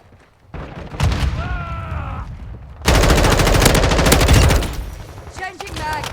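Call of Duty: Black Ops 6 match with a thrown grenade and bursts of gunfire, loud and close, sustained rapid firing over a dense game soundtrack with brief voice callouts.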